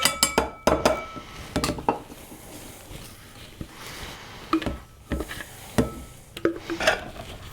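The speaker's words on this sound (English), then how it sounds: "I'm going to transfer this into a bowl" Chickpea patty mixture being scraped and transferred into a bowl, with a series of close clinks and knocks of a utensil against cookware, sparse and irregular, with quieter scraping between the hits.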